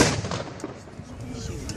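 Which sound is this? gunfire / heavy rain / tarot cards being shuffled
gunfire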